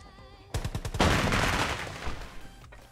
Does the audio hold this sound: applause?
no